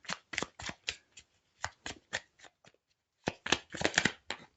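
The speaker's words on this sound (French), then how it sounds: "Je vais prendre une autre petite carte." Oracle cards being shuffled and drawn by hand, a series of soft close riffling flicks and slaps in irregular clusters with a brief pause before a final flurry, quiet and alone.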